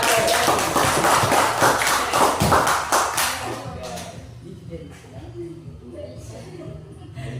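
A seventh-grade classroom claps for group 1 during a religion lesson, a dense burst of many hands for about three seconds that then fades into quieter shuffling and murmuring voices.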